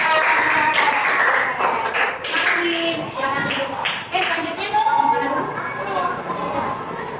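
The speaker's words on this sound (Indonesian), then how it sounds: "beri tepuk tangan buat kakak" An audience of students in a classroom claps steadily and loudly throughout, a dense continuous patter mixed with chatter and young voices talking over it.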